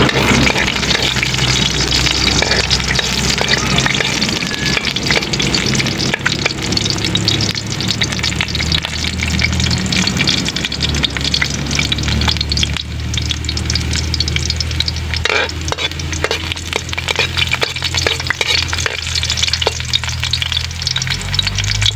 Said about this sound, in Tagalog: mainit na ang mantika. Okay, susunod ko na sa kanya ang bawang.